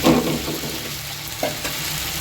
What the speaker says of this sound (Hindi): सारी चिकन हम आहिस्ता आहिस्ता यहाँ डाल के हमने इसको चला लेना है